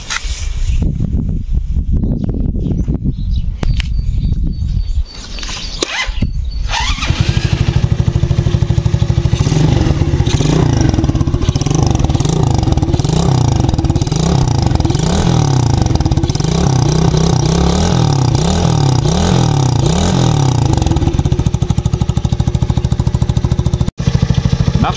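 A Madix 50cc quad's small engine runs loud and close after a quieter opening, with a steady buzzing drone and a rhythmic pulsing throb that holds to the end.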